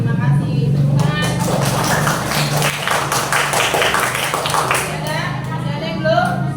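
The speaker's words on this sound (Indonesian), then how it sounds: "Tepukan." Classroom applause from a group of students, a few seconds of dense rapid clapping close by with chatter and voices running underneath.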